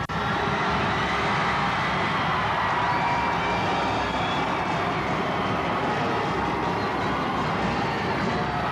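Crowd at a 1995 Section 4AA boys high school hockey championship game cheering after a win, a loud continuous roar filling the arena with no breaks.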